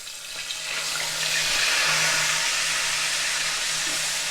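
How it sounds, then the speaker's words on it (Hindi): Onion paste sizzles steadily in hot oil with crackled cumin seeds and a pinch of asafoetida, a loud, continuous frying hiss from start to finish with no talking. "जीरा अच्छे से चटक गया, हम इसमें 2 प्याज का पेस्ट ऐड करेंगे।"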